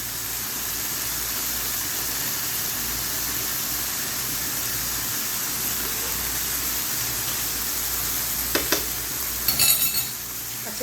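Spaghetti being tossed and mixed with chili sauce and soy sauce in a hot pan, a steady close sizzle and hiss with scraping stirs, a few sharper clinks near the end.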